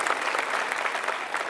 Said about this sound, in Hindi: भाई एक बार और जोरदार ताली भाई।